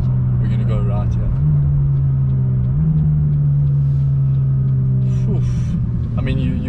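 A McLaren 570S accelerates hard under launch control, its engine droning steadily and climbing in pitch from inside the cabin while people talk over it.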